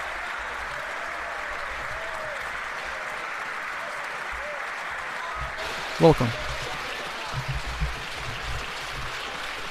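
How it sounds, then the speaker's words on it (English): Sustained clapping fills a parliamentary chamber during a sitting of the House, a constant wash of applause running beneath a speaking voice, with a brief louder thump partway through. "that's a lot of clapping"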